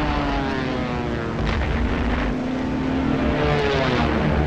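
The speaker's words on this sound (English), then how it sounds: "German bombers attacked English ports" Droning engines of German bombers in World War II archival footage, a loud, steady propeller roar that holds without a break throughout.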